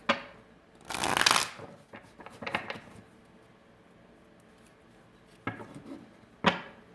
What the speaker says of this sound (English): I'm going to really quickly pull some clarifying cards